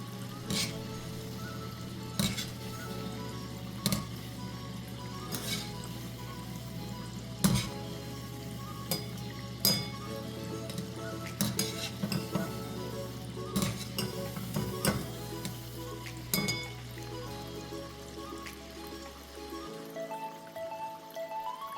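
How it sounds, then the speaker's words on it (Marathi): Shankarpali sizzling steadily in oil over a low flame, a continuous frying hiss broken by occasional sharp clinks and scrapes of a utensil against the pan, close and moderately loud with no talking. "ह्या शंकरपाळी आपण मंद आचेवर तळून घेऊया"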